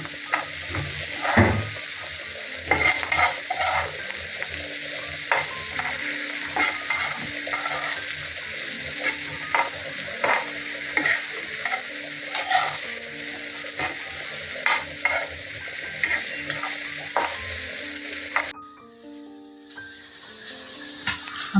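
Mandeli fish frying gently in a pan over a low flame, a soft steady sizzle with light clicks and scraping running throughout, dropping away briefly near the end.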